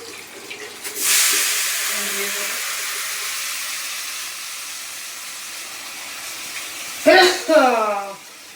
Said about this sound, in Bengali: এবার আমি একটু হালকা করে ধুয়ে নেব